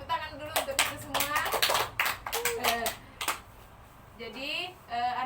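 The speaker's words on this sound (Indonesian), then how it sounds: "Oke, tepuk tangan dulu untuk itu semua." Classroom of children clapping hands in scattered bursts during a group guidance session, mixed with children's voices and chatter between the claps.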